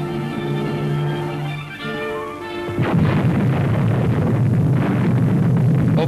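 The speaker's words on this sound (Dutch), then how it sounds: "Vanuit een andere hoek zag dezelfde explosie er zo uit." A deep, rumbling blast from a 1954 British atomic bomb test rolls in after a few seconds of droning tones, then a sustained roar of noise carries on to the end.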